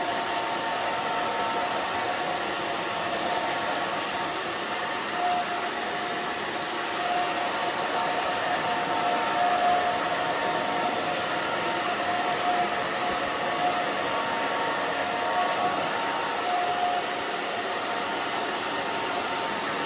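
Steady, loud blowing of a hair dryer used with a round brush on a short, wispy haircut, running unbroken for about twenty seconds.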